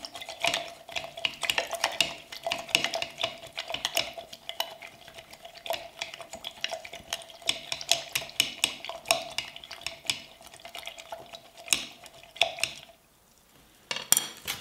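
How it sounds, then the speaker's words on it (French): Steady utensil scraping and clinking in a pan or bowl while vinegar, shallots and sugar are stirred together, a continuous busy rhythm of small metallic taps close by, briefly pausing near the end. "Je vais mélanger soigneusement."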